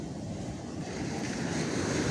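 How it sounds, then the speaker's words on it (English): Ocean waves wash onto a beach on a calm morning, a steady close roar of surf with some wind across the microphone, growing slightly louder toward the end. "give you some peaceful, tranquil vibes from the ocean"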